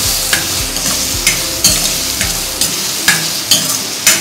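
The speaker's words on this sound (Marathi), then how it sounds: "लसूण वाटून घेतली आणि बीट वाटून घेतलंय, ते हे करून घ्यायचे, परतून घ्यायचं आहे" Ground garlic and beetroot paste sautéing in a pan for pav bhaji, a steady sizzle broken by regular scraping strokes of a spoon, close and loud with no talking.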